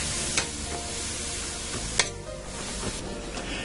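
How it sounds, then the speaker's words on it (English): Boiled broccoli stirred into soft, translucent fried onions in a frying pan, a steady close sizzle under scraping spatula strokes, with a few sharp clinks of utensil against the pan. "I'm just mixing it in this frying pan"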